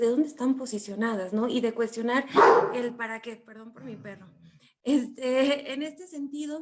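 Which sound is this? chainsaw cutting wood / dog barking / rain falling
dog barking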